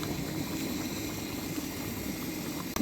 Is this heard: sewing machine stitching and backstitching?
no